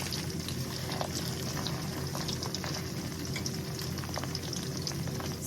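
Sausages sizzle and spatter in a pan over a fire, a steady, dense frying hiss that holds evenly throughout with scattered small pops.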